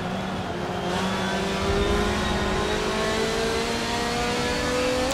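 A B-class rally car engine in Forza Motorsport 7 drones steadily at high revs through a fast corner, its pitch slowly climbing, loud and continuous with no talk.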